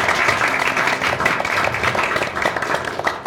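Audience applause at a youth political talk-show debate event, a steady wash of many hands clapping, fairly loud and sustained, easing slightly toward the end.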